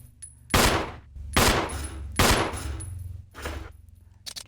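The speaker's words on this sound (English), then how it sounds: "I'm gonna waste 7 bullets here." Handgun shots from Jill in Resident Evil (2002), five sharp close reports spaced about a second apart, each followed by a brief echoing tail over quiet ambience.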